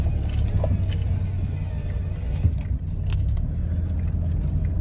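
A 1997 Dodge Ram 2500 pickup with a freshly rebuilt transmission pulls off on a short drive, a steady low engine and road rumble heard from inside the cab, with a few light rattles and clicks.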